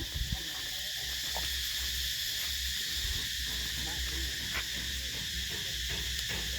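Cicadas chirping loudly, a dense, continuous high-pitched buzz that holds steady throughout, with faint scattered low noises underneath.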